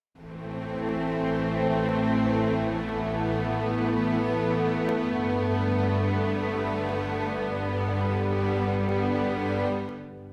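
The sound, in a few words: orchestral string sample library playing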